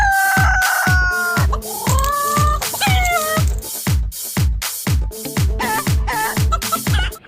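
A rooster crows repeatedly close by, several rising, strained calls in quick succession over loud rhythmic percussion, likely drums and music from an ondel-ondel performance.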